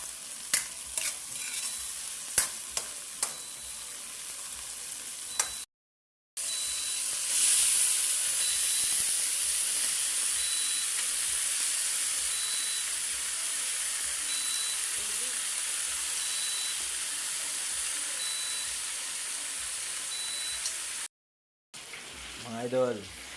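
Bottle gourd and shrimp cooking in a pan give off a steady broad sizzle with soft hiss, broken by two short silent gaps, with scattered stirring clicks near the start.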